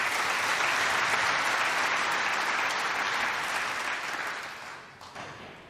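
Crowd applause at the 2023 European Open Pool Championship match between Joshua Filler and Mieszko Fortunski, a dense, steady clapping from the arena audience that gradually fades out toward the end.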